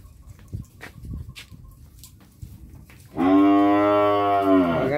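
A Tra Vinh cow gives one long, loud, rich moo near the end, following a quieter stretch of faint farmyard noises and clucking.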